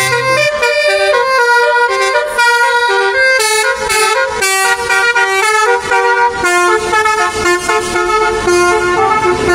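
A Pandawa 87 intercity bus blasts a loud, melodic multi-tone horn close by, with repeated rising and falling honks playing continuously while the bus passes.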